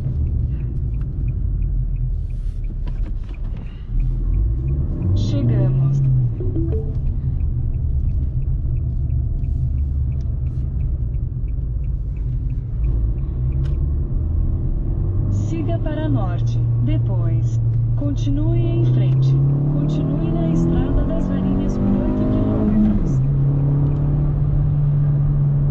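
Fiat Argo Trekking car accelerating hard on a road, heard from inside the cabin: a continuous engine drone that climbs in pitch through several gear changes, with a low road rumble underneath.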